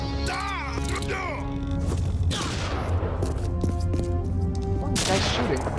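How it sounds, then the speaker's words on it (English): Gunfire in the video game Code of Honor 2 crackles in rapid, dense bursts with occasional booms, near and loud, while someone talks over parts of it. "You guys realize you're just getting shot at, right?"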